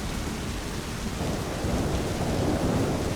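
Steady rain with low rumbling thunder in the video game My Summer Car, a broad continuous wash that swells slightly louder in the second half, with no voices.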